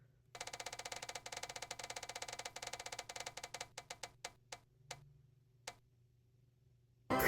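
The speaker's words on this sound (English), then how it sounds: "let's spin the wheel for our second prompt" A prize wheel for choosing books spins with a rapid run of loud, close ticks that slow and spread apart until it stops, then silence.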